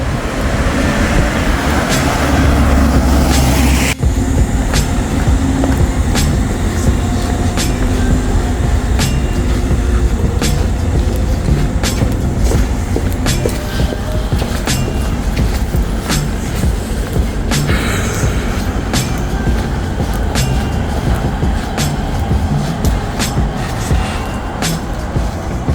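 Train in Tokyo, Japan, rumbling loudly nearby with a constant roar of wheels on rails and repeated clicking track joints throughout, no voices.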